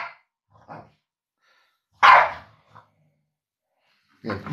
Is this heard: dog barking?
yes